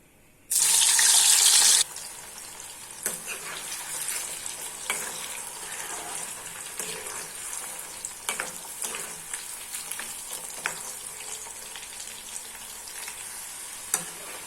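Salted raw plantain slices frying in hot oil, a steady close sizzle with scattered pops and crackles throughout, preceded by a short loud burst of rushing hiss at the start.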